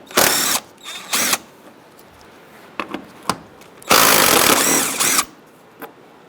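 Socket ratchet work on a bolt behind a 2010-2013 Kia Soul headlight, heard as a few short clicking bursts and one longer burst of rapid ratcheting, close and fairly loud with quiet gaps between.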